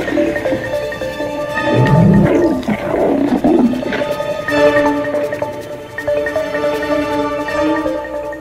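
A pride of lions roaring loudly at close range, deep rumbling calls rising and overlapping in several long bursts with no voices.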